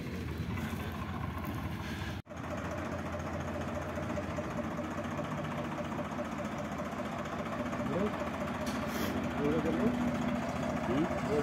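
A tractor engine runs steadily with a newly hitched combine reaper, a continuous low mechanical drone that grows slightly louder toward the end, with a brief dropout early on and faint talk in the background.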